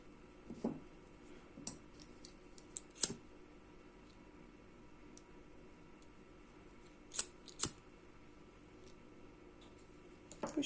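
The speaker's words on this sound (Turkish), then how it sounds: "ipimi burada kesiyorum diğer ipimi de keselim" Scissors snip through crochet yarn in a few sharp, close cuts scattered across a quiet room, with soft handling noises between them and no one talking.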